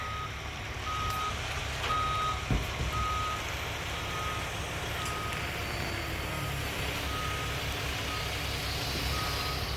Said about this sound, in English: Here comes the dump truck.